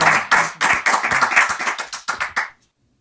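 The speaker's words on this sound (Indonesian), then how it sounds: "Tepuk tangan buat Ustadz K." A small crowd claps for Ustadz K, a quick burst of about a dozen brisk handclaps at close range that ends abruptly, leaving silence.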